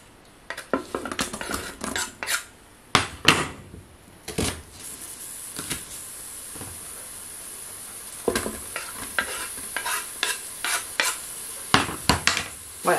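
Hot dog browning in a pan, with a low background sizzle broken by repeated sharp clinks and scrapes of utensils and cookware, close by, irregular bursts over the whole stretch, no voices.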